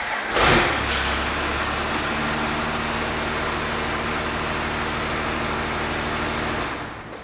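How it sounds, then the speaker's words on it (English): A Cummins diesel engine swapped into a 1967 Ford F-250 cranks and fires, then settles into a steady, loud, close idle with a low rumble before cutting off at the end. "so we got it starting with the Ford key"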